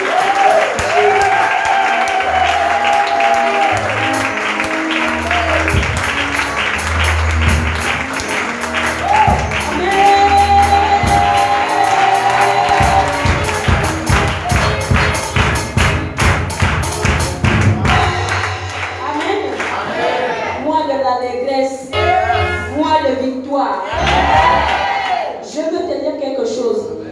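A congregation at a French-language prayer service claps in steady rhythm and cheers, loud and sustained throughout, with voices and music mixed in.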